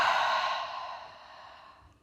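A single long, deep exhale during a breathing warm-up on a mat before rope work. It is close and breathy and fades steadily over about two seconds.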